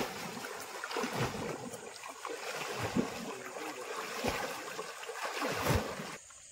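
Pond water is churned and splashed in repeated sloshing bursts to drive fish into a net, wet and close up, with no talking.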